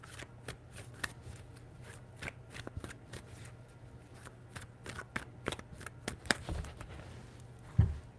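A deck of tarot cards is shuffled close up with a steady run of sharp, quick snaps and flicks, fairly quiet, ending in a soft thump, with no voices.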